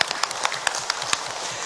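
Sparse clapping from an audience at a Buddhist dharma talk, a thin patter of scattered hand claps in a hall, fairly distant and modest in volume.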